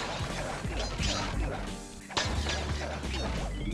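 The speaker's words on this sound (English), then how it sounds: "More windows to smash. I love smashing windows." Windows shatter in the video game Sly Cooper and the Thievius Raccoonus, giving a sharp glassy crash with clattering mechanical debris against a dense backdrop of steady game sound.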